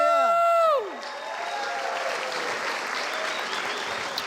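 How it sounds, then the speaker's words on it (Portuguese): A church congregation applauds loudly at a New Year's Eve service, a dense wash of clapping that follows a brief sung note and continues steadily to the end. "Aplauda mais forte ao Senhor."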